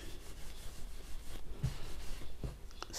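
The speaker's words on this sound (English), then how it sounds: "take a bit of thread, a bit of wool, and rub it in my hands." Wool and thread are rubbed between two hands for needle felting, a soft, continuous scratchy friction with light rhythmic swishes and a few faint taps, close and quiet with no talking.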